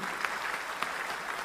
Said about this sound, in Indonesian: Wih, ramainya orang tepuk tangan.